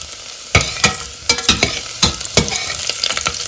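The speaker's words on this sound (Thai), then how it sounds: "เคี่ยวกระเทียมให้หอมนะคะ" Garlic sizzles and crackles in hot oil in a pot, with steady frying hiss and irregular louder pops and stirring clatters throughout.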